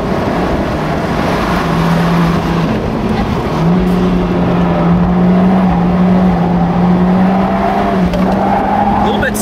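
A Fiat 124 Spider Abarth's small turbocharged 1.4-liter engine hums steadily at a constant pitch while driving, loud and continuous, with road and wind noise around it.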